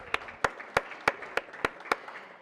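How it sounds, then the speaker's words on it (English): A single pair of hands claps about eight times in a steady, evenly spaced rhythm at an event honouring a group of speakers, sharp and close, with no crowd swell and no talk. "I just want to give everyone a round of applause for their involvement."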